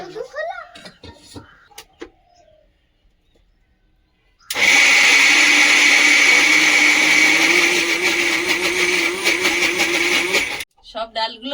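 An electric mixer grinder whirs loudly and steadily for about six seconds as it grinds soaked lentils into batter, then abruptly stops; a voice speaks briefly before it starts and again right after.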